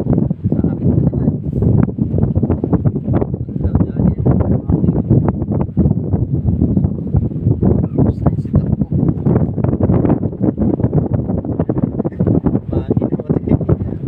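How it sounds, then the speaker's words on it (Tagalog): Steady wind rushes and buffets the microphone throughout, with people talking over it near by. "Mahangin na pati."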